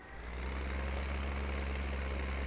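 A combine harvester engine idles steadily in Landwirtschafts-Simulator 15, a deep, constant rumbling drone with a low hum that holds unchanged from start to finish, with no talking.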